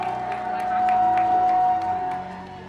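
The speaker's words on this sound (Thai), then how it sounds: "ขอเสียงปรบมือต้อนรับครับ" An audience applauds to welcome a film director onto the stage at a gala premiere for the Thai film Hun Payon, a steady wash of clapping that swells in the middle and eases off toward the end.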